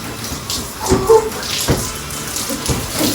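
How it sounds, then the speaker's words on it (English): Water pours and splashes into a basin while someone's natural hair is washed at home, with a few louder splashes and drips over a steady running-water wash, close by. "pouring the water out"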